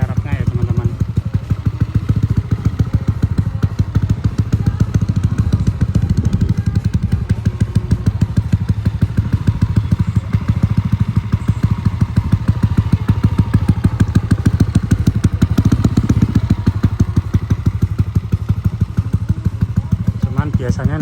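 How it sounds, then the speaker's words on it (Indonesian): A Yamaha Aerox scooter engine idles with a continuous, close, low putter and steady ticking pulse, running under a person talking throughout. "Cukup dibiarin aja sekitar 5-10 menit dalam keadaan langsam."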